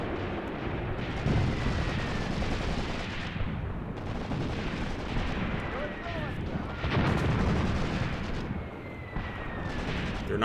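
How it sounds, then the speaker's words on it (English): Artillery barrages in a WWII Eastern Front video game battle, dense rumbling blasts and crackling gunfire rolling continuously at full volume, with heavier impacts near 1, 4 and 7 seconds. "When the artillery works in this game, it works beautifully."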